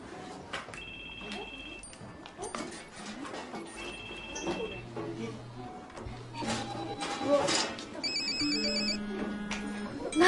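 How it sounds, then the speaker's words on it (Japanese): A mobile phone rings during a classroom lesson, playing a melodic electronic ringtone of repeated beeping tones. The ringing continues under murmuring voices and room noise. "授業中携帯電話切っとけよ。"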